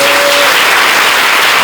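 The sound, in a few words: audience applauding at a religious gathering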